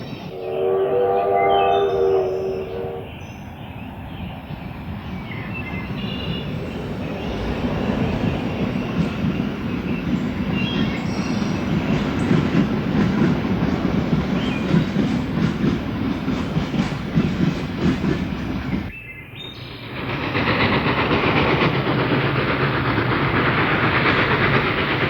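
A train rumbles along the rails with steady clickety-clack and hissing, growing louder as it passes, then briefly drops away before resuming.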